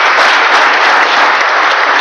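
Steady, dense applause from a large audience after a governor's address, a continuous wash of clapping filling the whole stretch at full loudness with no voices over it.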